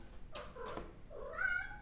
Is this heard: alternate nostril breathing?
no